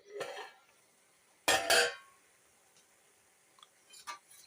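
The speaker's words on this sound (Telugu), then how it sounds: "ఒకసారి మూత తీసి చూద్దాం." A lid comes off a pot of spinach and amaranth curry with a soft clink, then a louder metallic clatter, followed by faint light taps.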